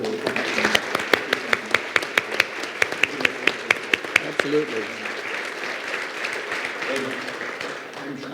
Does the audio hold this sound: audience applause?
yes